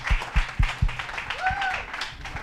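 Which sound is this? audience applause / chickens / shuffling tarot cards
audience applause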